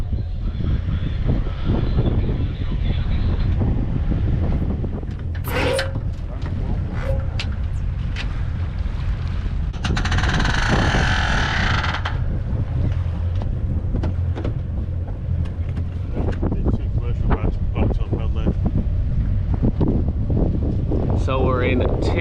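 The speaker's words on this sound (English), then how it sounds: "Wind behind us at the moment," Wind buffeting a sailing boat cruising the Grenadines near Carriacou, a continuous roar on the microphone with a stronger gust in the middle, under people talking throughout.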